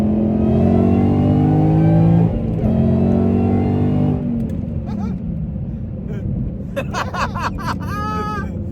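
A 2014 Ford Mustang GT engine revving up hard in third gear, pitch climbing through the gear before easing off; voices and chatter come in over the engine toward the end.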